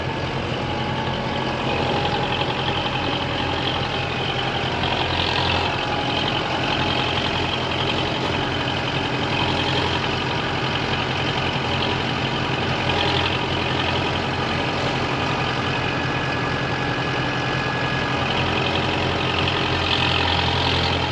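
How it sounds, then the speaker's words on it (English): A hay-hauling truck with a new fuel injection pump idles steadily, a loud, close, continuous diesel rumble and drone that holds unchanged throughout with no talk. "This truck does sound better though with this fuel system, and it's got a new injection pump on it."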